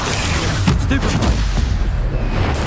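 A Stupefy stunning spell goes off in Hogwarts Legacy amid spider combat, a few sharp bursting blasts over a steady rumble of game noise.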